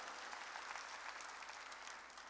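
A church congregation at a worship service claps together, a steady, even patter of many hands heard at a distance, quiet and continuous for the whole stretch.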